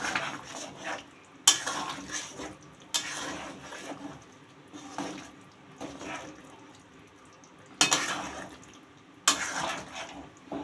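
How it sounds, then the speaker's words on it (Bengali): Spoon strokes stir a Bengali stingray (shankar fish) curry with coriander leaves and garam masala in a pan, giving a low bubbling bed with a few sharp scrapes and clinks against the metal at irregular intervals. "এবার একটু নেড়ে চেড়ে"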